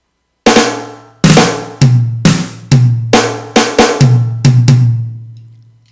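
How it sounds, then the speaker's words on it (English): A rock and roll drum fill alternates eighth-note hits on snare and tom, loud close strikes in a quick rhythmic run with ringing decays, followed by a short silence. "That is an 8th note on a snare, 8th note on a tom."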